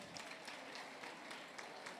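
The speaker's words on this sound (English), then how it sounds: "We're going to clap for ourselves." A group of women claps for themselves at a Niger Delta women's meeting, a faint, steady patter of hands at a distance with no voices over it.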